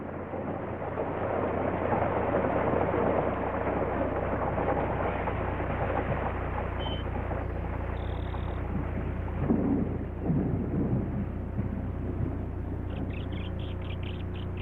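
Steady heavy rain pours across the high plains of Emas, Brazil, with a dense continuous hiss and low rumbling thunder rolling underneath, broad and unbroken for a long stretch.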